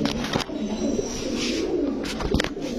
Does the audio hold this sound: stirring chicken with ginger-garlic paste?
no